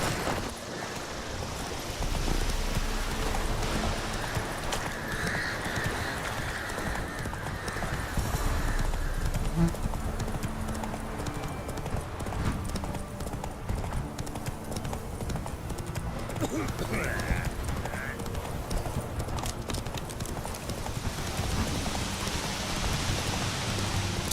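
Roach the horse's hooves clip-clop steadily in The Witcher 3 game, with rain falling around them. A voice speaks briefly over the hoofbeats.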